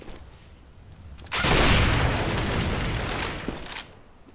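A dense, loud burst of rapid gunshots in Counter-Strike: Global Offensive lasts about two and a half seconds after a quieter start, then cuts back to low background noise.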